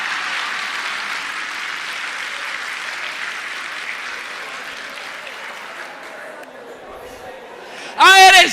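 An audience at a religious talk claps in a steady, moderate wash that slowly thins out, followed by a brief burst of a different sound at the end.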